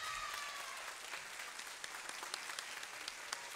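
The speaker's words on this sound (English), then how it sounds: "just a round of applause for Stella Shepherd" An audience at a high school spring concert applauds an award winner, a steady wash of many hands clapping at moderate distance, with a few sharper individual claps standing out near the end.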